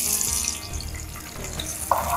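Thinly sliced onions frying in oil for brinjal biryani give a steady, close sizzle with broadband crackle throughout and a brief sharper clink near the end.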